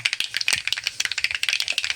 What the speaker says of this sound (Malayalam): കടുക് പൊട്ടി വരുന്നുണ്ട് കേട്ടോ